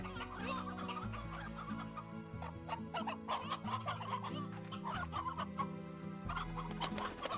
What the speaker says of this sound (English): In this game, chickens are not people too.